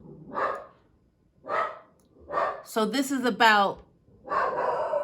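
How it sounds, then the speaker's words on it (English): A dog barks in short bursts at a moderate distance, with a person speaking over and between the barks. "Sorry for the dog barking."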